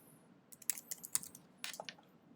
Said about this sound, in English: And I'm going to type in perspective.